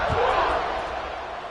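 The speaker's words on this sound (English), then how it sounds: "this crowd is buzzing after that last score" Steady crowd buzz fills a home-game stadium in a college American football video game, with the Sic 'Em Dawgs hosting Minnesota; a dense, continuous roar runs throughout without distinct peaks.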